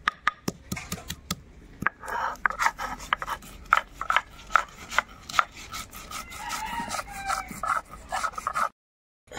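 Rhythmic rasping strokes of white mustard seed, fresh green chili and ginger being ground into a paste on a stone, a steady series of scraping pushes, close and fairly soft.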